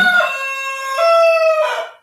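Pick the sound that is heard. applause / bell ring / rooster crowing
rooster crowing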